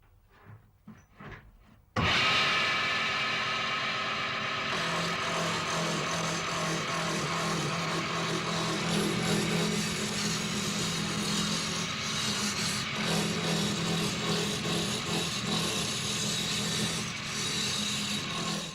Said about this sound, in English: A large half-round gouge is used for the rough turning, removing the surplus wood and turning the piece into a cylinder.